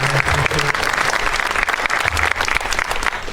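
A crowd applauds at a Declaration Day program attended by state senators: dense, loud clapping from many hands, continuous throughout with a few brief low thumps underneath.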